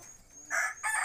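A Peru-breed rooster crows in a short, bright burst of two strident pulses, close by at a chicken farm, with no talk over it.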